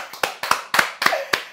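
A few hands clap nearby in loose, uneven bursts, about seven sharp claps spread over a second and a half, heard close with no talking over them.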